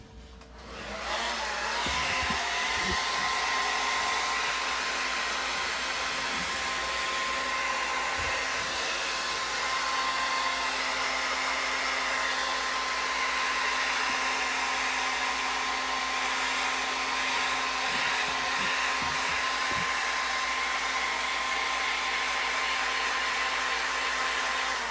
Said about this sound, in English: my hair dryer because it's still very wet.